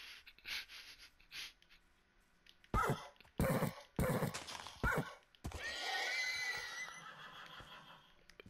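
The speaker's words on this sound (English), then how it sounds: "when those horses, when they fucking die, that high pitched scream is just ow" Horses in the Minecraft video game neigh and scream in several loud, sharp bursts after quieter snorts, ending in a long, high-pitched dying whinny.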